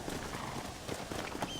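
Horse hooves clip-clop in Red Dead Redemption as a rider heads to the ranch stable, a quick run of close, even hoofbeats over continuous game ambience.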